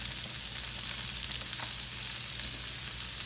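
Onions fry in a pan on a stove set to medium, a steady, close hiss of sizzling that runs unbroken throughout with faint crackles mixed in.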